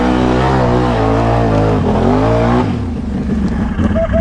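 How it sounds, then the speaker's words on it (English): Four-wheeler ATV in four-wheel drive, tires dug into a backyard mud hole, its engine roaring loud and close with rising and falling revs, then sputtering and straining lower. "I've never had this four-wheeler struggle that bad"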